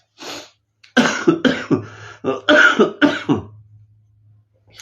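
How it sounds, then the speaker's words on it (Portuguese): A dry, hacking cough comes in a close, loud series of sharp bursts, with one short cough first and some throat clearing. There is no talking. "a tosse seca tá terrível"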